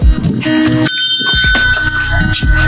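A bright doorbell rings with a clear sustained tone at an old mansion in İzmit, ringing out and fading, with brief rustling and movement noise around it.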